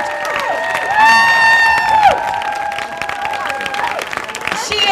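A crowd at a pro-choice women's rally in Santa Fe, New Mexico, applauds and cheers Representative Renee Villarreal, with loud, steady clapping and some whoops, mixed with feedback-like tones and a voice over the noise.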